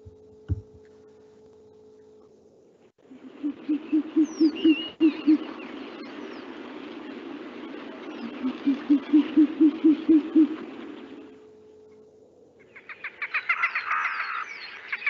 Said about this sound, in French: cette espèce qu'on vient d'entendre, c'est le hibou des marais